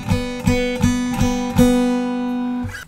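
Guitar strummed with a damaged pick, several loud sustained strokes with a scratchy, harsh attack on each hit, ringing out alone and close.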